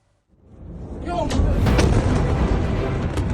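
A deep, booming roar of ballistic missiles exploding one after another swells up quickly and keeps rumbling loudly, like heavy explosions rolling together.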